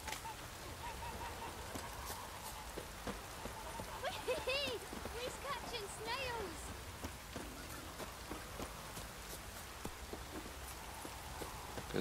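A light drizzle falls in The Witcher 3, making a faint, steady patter and hiss. A few soft whistling tones and clicks drift over the top.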